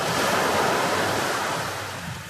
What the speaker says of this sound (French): où le mouvement des vagues est un appel à la détente.